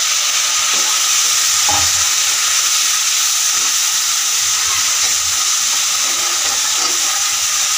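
Onion frying with garlic paste in a pan makes a loud, constant sizzling hiss close by, with occasional soft stirring scrapes underneath.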